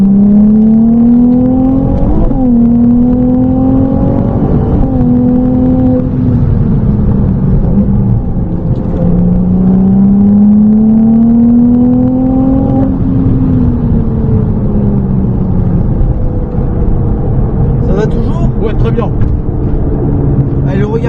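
Ferrari 296 GTB accelerating hard around the Trappes circuit during a driving course, engine pitch climbing through several gear upshifts, loud and close from inside the car, with an instructor talking over it.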